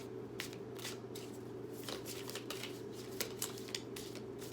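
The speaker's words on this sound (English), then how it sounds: "Right now, I am shuffling through my night sky playing cards" A deck of night sky playing cards printed with constellations is shuffled softly, with light riffling and flicking over a steady low hum, faint and close.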